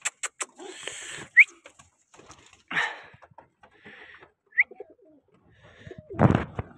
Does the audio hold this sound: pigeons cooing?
yes